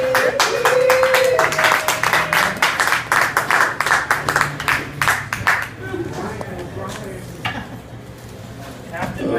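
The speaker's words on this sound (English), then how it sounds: "keep the applause going for the baristas and Stephen" Rhythmic clapping from a small crowd, brisk and steady at first, then thinning out as voices take over.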